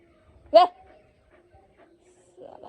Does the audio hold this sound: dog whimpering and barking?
yes